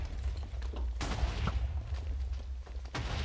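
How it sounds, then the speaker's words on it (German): Video game gunfire rattles in a dense string of muffled shots and bursts, heavy low thumps repeating throughout at moderate loudness. "Irgendjemand schießt auf mich."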